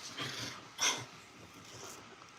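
Dogs close by at home, a faint snort and breathy sniffing with a short louder huff near the middle over quiet room noise.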